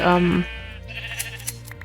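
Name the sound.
sheep bleating in a video game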